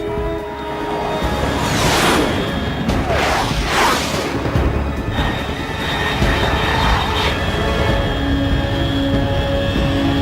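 Aircraft in the video game Metal Gear Solid 3 roar past overhead, with several loud whooshing sweeps in the first half over a steady droning engine hum.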